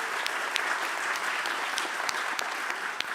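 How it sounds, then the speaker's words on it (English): An audience at the PGDay Lowlands 2024 conference applauds a prize winner with dense, even clapping that holds steady for a few seconds, a little distant and without voices. "Please, a round of applause for the winner."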